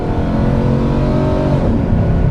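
A police car's engine revs hard and accelerates, a loud, close, continuous roar with rising pitch and no talk over it.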